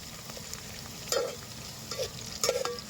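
Onion, garlic and green chillies fry in a pan with a soft, continuous sizzle, punctuated by a few quick stirring scrapes, close and fairly quiet.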